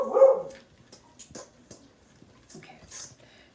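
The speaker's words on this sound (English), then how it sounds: "You can hear my dog barking in the background." A pet dog barks in the background of a home kitchen while banana currant bread batter is mixed, giving a few short, moderately loud barks mixed with quieter sounds.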